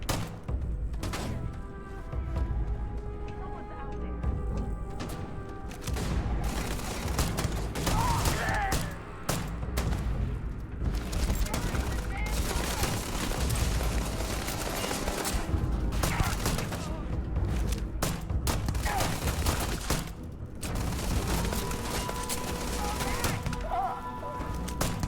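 A powerful handgun in Starfield fires repeatedly in a busy firefight, heavy shots and impacts thudding densely and loudly over a continuous roar of combat noise, with a voice talking at times.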